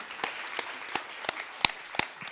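A sparse audience at a science-outreach event claps, with a few sharp, distinct hand claps standing out over a quiet, thin patter.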